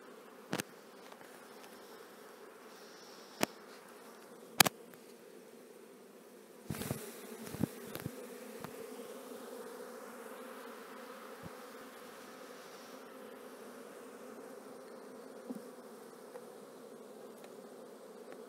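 A dense, continuous hum of honeybees buzzing as frames are shaken into a nucleus hive during an autumn split, broken by a few sharp knocks and thuds from the frames.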